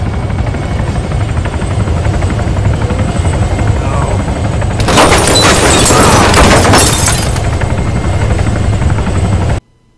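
Helicopter in the ArmA 3 combat game flying along a recorded path, a loud steady rotor drone with a brief harsh crash-like burst in the middle, cutting off abruptly at the end.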